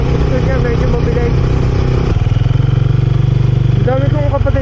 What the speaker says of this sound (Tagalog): Kaso parang nahihirapan yung motor.